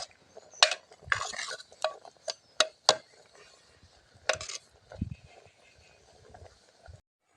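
Greens (keerai) are turned in a pan with a utensil, producing sparse, quiet clinks and scrapes of metal against the pan in irregular bursts, with faint sizzling between.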